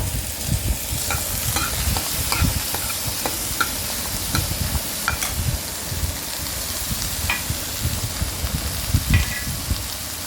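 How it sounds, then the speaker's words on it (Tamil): Vegetables for sorakkai sambar sauté in a hot pan, a continuous close sizzle broken by repeated scraping stirs of a spoon against the pan. "இந்த மாதிரி நல்லா வதக்கி எடுத்து வச்சுக்கோங்க"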